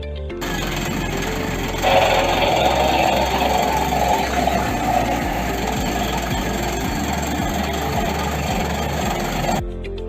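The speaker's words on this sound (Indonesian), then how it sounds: "Dapat dilihat itu adalah putaran yang dihasilkan mesinnya karena sedang dalam proses pemanasan oleh kru kapalnya." The diesel engine of the tugboat TB. Sepat 13 idles as the crew warms it up. It is a loud, steady mechanical drone with a fast, even low pulsing that keeps going without a break.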